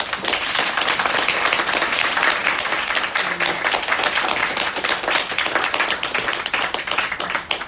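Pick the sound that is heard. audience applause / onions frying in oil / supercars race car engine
audience applause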